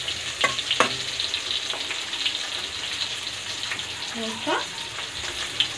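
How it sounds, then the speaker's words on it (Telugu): Garlic frying in a pan until browned, a steady close sizzle with occasional clinks and scrapes of stirring, and a brief spoken word partway through. "కొద్దిగా వెల్లుల్లిని ఫ్రై చేసుకోవాలి"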